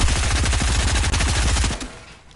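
SMG fire in Fortnite sounds as a loud, rapid burst of shots that runs for nearly two seconds and then cuts off, leaving a short fading tail.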